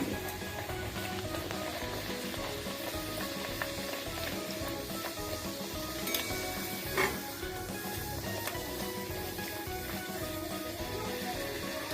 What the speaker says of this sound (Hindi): ऑयल हमारा एकदम अच्छी तरह से गर्म है, तो अब बस मैं इसमें गरम तेल में से डाल दूंगी और इसे सेक लेंगे